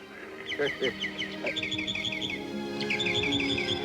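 Small birds chirp busily around scattered feed, quick bright tweets in clustered bursts close by, joined by a few lower squawks, with no talking.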